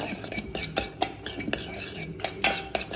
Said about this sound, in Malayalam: നമ്മളിത് മിക്സ് ചെയ്തിട്ട്